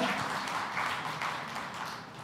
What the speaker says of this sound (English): I request all of you to give a loud applause for the minister